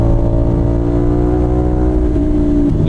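Motorcycle engine droning steadily at cruising speed on a long ride through La Union, loud and close, with a constant low hum and a slight shift in pitch near the end.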